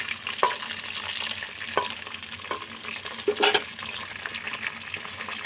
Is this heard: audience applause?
no